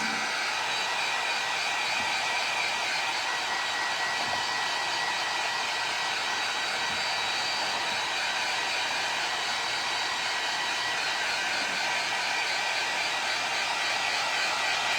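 Heat gun blowing steadily on a decoupage craft project, a continuous loud hiss of rushing air with a hum beneath it, unchanging for the whole stretch and no voices.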